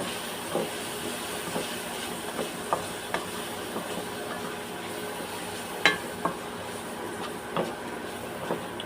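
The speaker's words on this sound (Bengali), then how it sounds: "এখন নেড়ে নিই" Ground coriander and spices being stirred and sautéed in a pan for a fish and potato curry, with a soft sizzle under scattered clinks and scrapes of the spoon against the pan.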